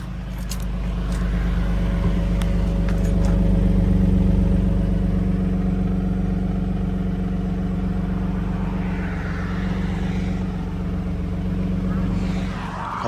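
A 2013 Ford F150 STX's 3.7L V6 idles steadily and close by with an even low hum, while a person talks briefly over it near the start.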